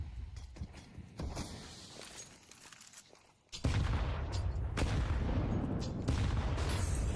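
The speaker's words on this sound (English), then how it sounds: "That's 3 HEs, a Molotov thrown right at the tail end" HE grenades and a Molotov going off in Counter-Strike 2, muffled blasts and crackle in a busy first half, then a sudden loud burst of dense explosive noise that stays heavy to the end.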